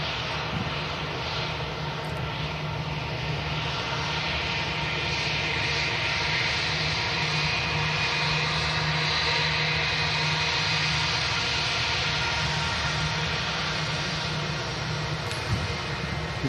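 A passenger aircraft landing at Manchester Airport after a flight from Heathrow, a loud continuous jet roar that holds steady throughout with no talking.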